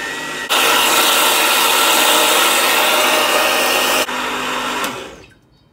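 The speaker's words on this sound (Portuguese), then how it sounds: "deixa eu só bater mais um pouquinho e vou já misturar a gelatina incolor" A blender whirs loudly as it mixes a lemon mousse made for the Dukan diet, starting abruptly, holding a steady roar for a few seconds, then dropping briefly to a lower speed before winding down to silence.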